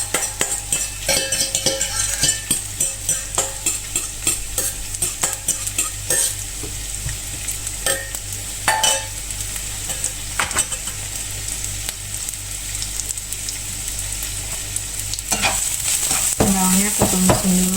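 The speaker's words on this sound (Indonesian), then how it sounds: "Aku mau gorengin dulu nih telur dadarnya." An omelette with chives, seasoned with salt and pepper, fries in a pan with a steady close sizzle, punctuated by repeated utensil scrapes and stirring clicks, with no talking.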